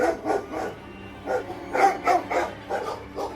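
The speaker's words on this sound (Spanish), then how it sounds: "Entonces los perros empezaron a ladrar como animales salvajes." Several dogs bark wildly in repeated overlapping bursts, close and loud, with sharp yips between them, a frantic chorus suited to a horror story.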